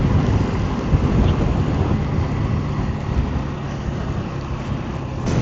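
Rain pours during a monsoon motorcycle ride near a ghat road, buried in constant roaring wind noise and engine rumble that stay loud and steady throughout.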